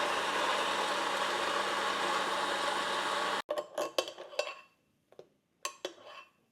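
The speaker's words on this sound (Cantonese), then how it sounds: "開機將佢打到成蓉" A blender purees vegetable soup, roaring loud and steady for about three seconds before switching off abruptly, followed by a few close clinks and knocks of the jug and lid.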